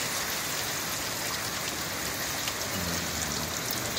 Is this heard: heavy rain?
yes